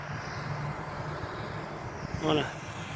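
An airplane takes off at Riga airport, a steady, broad engine roar filling the scene from start to finish, with a voice briefly speaking near the end.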